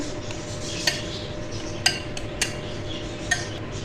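A spoon stirs pizza batter with milk in a bowl for an instant flour-free pizza, giving a few sharp clinks against the bowl over a soft, steady swishing of liquid, close and unhurried.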